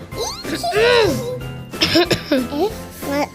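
A child coughs and clears the throat a few times up close, mixed in with children's chatter and brief talk during a classroom teaching role-play.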